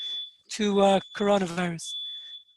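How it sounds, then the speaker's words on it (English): A smoke alarm emits a steady high-pitched beep tone that runs beneath a man's speech, continuing faintly through pauses and after he stops talking. "There's a smoke alarm beeping here."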